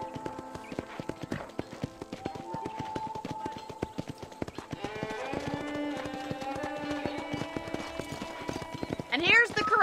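Steady clip-clop of horse hooves walking at an even pace in the video game Red Dead Redemption, with a voice talking and light background music throughout.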